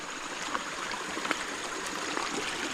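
Mountain spring water runs downhill in a steady, gentle trickle, a continuous soft stream of flowing water that sounds fairly quiet and even, with no voices.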